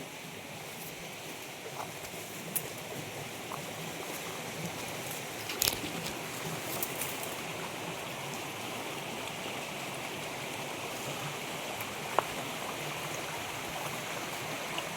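A forest stream in the Seshachalam hills runs in split channels below a waterfall, a continuous broad rushing flow with occasional small splashes and clicks and no voices.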